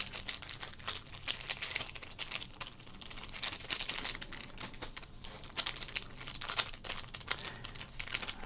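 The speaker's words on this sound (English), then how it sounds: "Thanks to all my crinkle heads who keep coming back for the delicious card pack crinkles." Foil sports card packs crinkle and crunch continuously, close and crisp, with bursts of sharper crackling throughout and no voice.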